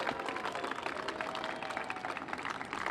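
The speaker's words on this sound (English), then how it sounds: "So let's give Sarah a huge round of applause." An indoor audience at the Avenue Theater in Portola gives a dense, sustained round of applause, with many hands clapping continuously at moderate loudness.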